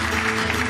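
A studio audience on a Turkish television show applauds the orchestra, a brief, dense wash of steady clapping close and even in loudness, with no clear breaks.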